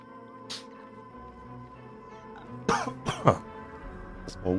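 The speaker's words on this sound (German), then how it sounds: "Das war Husten." A person coughs indoors, with a faint earlier throat sound and then a burst of two or three close, sharp coughs followed by one more short cough near the end, over a quiet background hum.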